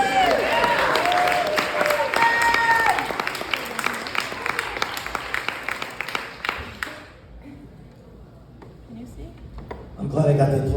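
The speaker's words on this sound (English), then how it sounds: "I'm glad I got the applause at the beginning." An audience at a StoryJam storytelling night at Madame Zuzu's breaks into loud, sustained applause with scattered cheers that fades after about seven seconds, with voices mixed in underneath.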